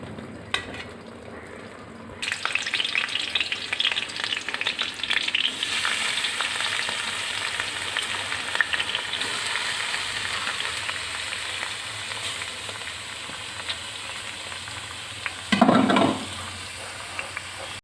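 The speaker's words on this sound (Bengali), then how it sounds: "আগে থেকে কেটে রাখা পেঁয়াজ কুচি এবং লঙ্কা চেরাগুলো এখন গরম সরিষার তেলের মধ্যে দিয়ে দিচ্ছি।" Chopped onion and slit chillies hit hot mustard oil with a sudden loud sizzle that settles into steady close frying, with a brief burst of stirring near the end.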